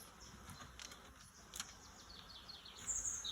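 A faint, soft buzz comes from honey bees at a hive in an attic, with a few thin bird chirps far off in quiet background hiss.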